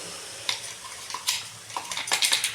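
Mixed vegetables being stirred into hot oil and spices with ground peanut and sesame powder, giving a soft scraping sizzle with several sharper spoon-on-pan clinks scattered through, close and fairly quiet, no voices.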